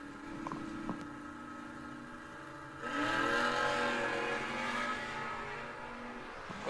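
A 1987 Chevrolet Camaro drag car from Lansdale, PA revs its engine, a steady mechanical drone that swells sharply louder about midway and holds there, with no voices.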